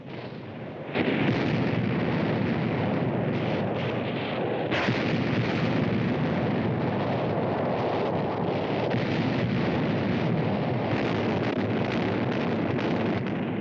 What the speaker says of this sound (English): Big guns booming.